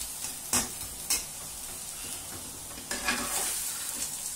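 A home stir fry sizzles in a pan with a low steady hiss, broken by a few brief scraping stirs and clatters of a utensil against the metal.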